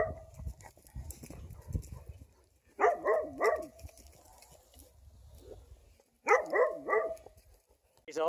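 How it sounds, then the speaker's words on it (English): A puppy dog on a farm barks in two separate bursts of several quick, close barks, with a low rumbling background between them. "It is one of our puppy dogs. She's out letting everybody know she's out on patrol and doing a good job at it."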